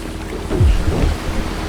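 A boat in the GTA 5 video game moves over water, its low engine drone swelling briefly under a steady splash and wash of waves, loud and close, with no voices.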